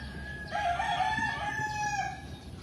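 A young rooster (stag) among young chickens on a farm in the Philippines gives a short, thin, cracking crow, close by, over a low background hum.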